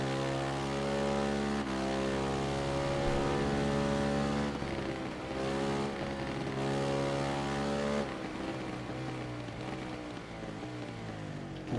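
Racing motorcycles in the Ride 3 video game drone steadily with strong harmonic engine tones that shift pitch as they accelerate and brake, loud and continuous with no talk.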